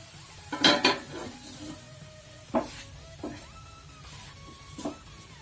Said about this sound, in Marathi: आता असंच एक एक मिनिटांनी काढून हलवायचं आणि छान आधी मोकळा मोकळा होईपर्यंत पिठलं आपल्याला गॅसवर ठेवायचं